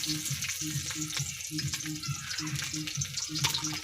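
Garlic frying in hot oil, a dense close crackling sizzle with a steady rhythmic clatter of stirring underneath, continuous throughout.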